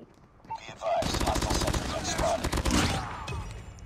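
Rapid burst of automatic gunfire in a shooter video game, a dense rattling volley lasting about two seconds, then a few trailing shots, with faint game voices before it.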